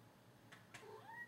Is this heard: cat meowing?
yes